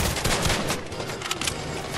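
Rapid SMG fire in the Fortnite battle royale, a dense, continuous burst of automatic shots over busy game noise for the full two seconds, with no talking.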